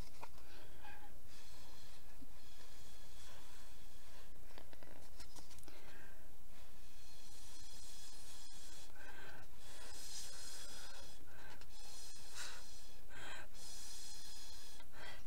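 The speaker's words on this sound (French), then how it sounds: "On va continuer à souffler" Repeated airy puffs of breath blowing across wet paint-marker paint on paper, close and soft, in short bursts with light rustling between them.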